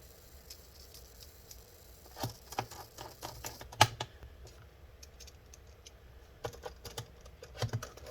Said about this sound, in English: now we'll put these screws all back in